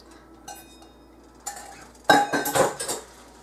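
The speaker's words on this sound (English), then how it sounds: "I'm just going to take my ham chunks and just put it in here." Chunks of ham are dropped into a heating pan with a few sharp metallic clanks and clatters, a couple of light knocks first and then a louder burst of rattling near the end.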